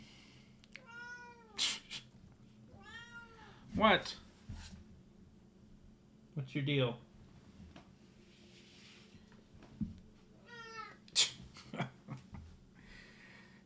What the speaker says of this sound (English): cats who meow at you for attention